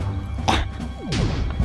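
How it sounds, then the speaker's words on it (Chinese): In-game explosion in the Minecraft Tekkit mod: a sharp, close crash and thud, followed by a second burst with a falling whooshing tail, short and loud with no speech. "这什么东西又爆炸了？"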